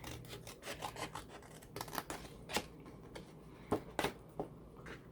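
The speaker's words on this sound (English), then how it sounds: "I'm going to cut this score line, miter," Scissors snip along a score line in card or paper while a holiday gift box is being crafted, giving a quiet run of short crisp cuts and rasping slides, close up and with no talk.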